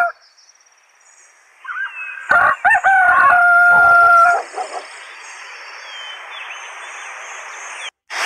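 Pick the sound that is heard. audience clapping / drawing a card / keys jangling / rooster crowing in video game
rooster crowing in video game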